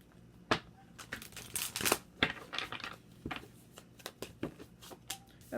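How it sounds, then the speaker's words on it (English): Tarot cards shuffled by hand in a quiet room: a string of crisp riffling bursts and soft slaps, with short pauses between them, close and moderately loud, no voices. "3 shuffles"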